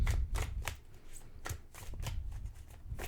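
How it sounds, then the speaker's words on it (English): Tarot cards riffling and slapping as one is drawn from the deck, a quick series of close, crisp flicks and shuffles with brief pauses between them. "I'm going to grab one of these cards"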